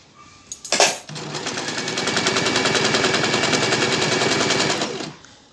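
A sewing machine stitches a seam on baby bloomer pants. A brief clatter comes first, then a steady, loud run of fast needle strokes lasts about four seconds before it stops.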